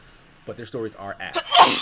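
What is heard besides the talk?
sneeze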